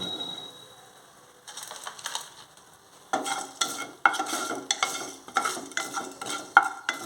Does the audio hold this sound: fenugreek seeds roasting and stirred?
yes